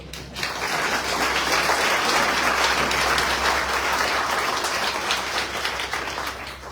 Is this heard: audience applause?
yes